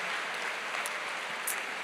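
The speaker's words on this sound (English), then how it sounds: "she deserves the applause" Applause from the audience at a talk in Singapore, a continuous even wash of clapping at moderate distance with no voices over it.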